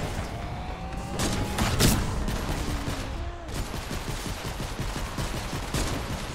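Rapid bursts of gunfire crackle in Fortnite's player-versus-environment mode, fairly loud and continuous with a few heavier booms and no talk over it.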